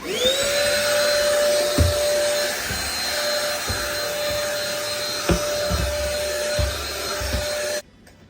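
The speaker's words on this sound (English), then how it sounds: "here's my favorite portable vacuum" A portable vacuum cleaner whines steadily at high pitch, with occasional knocks and bumps as it moves, then cuts off abruptly near the end.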